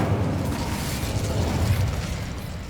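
A fire spell being cast in the Hogwarts Legacy video game: a dense, continuous roaring rumble with crackling bursts that holds steady at full strength for the whole stretch.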